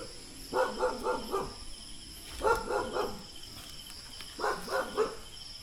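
Across the hillside by an abandoned mountain house, a dog gives three bursts of rapid barks, each several yelps long, with a steady insect drone underneath.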